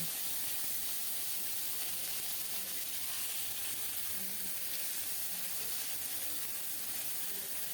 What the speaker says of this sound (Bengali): অল্প করে সরিষার তেল দিয়েছি গোটা জিরা ফোড়নে দিলাম এখন বাটা মশলাটা দিয়ে দেব